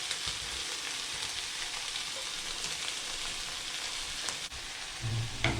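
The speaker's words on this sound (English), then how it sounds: "Okay, now I will be adding the noodles." Chicken and broccoli fry in a pan as noodles are added, producing a steady, loud sizzle with faint stirring scrapes and a brief clatter near the end.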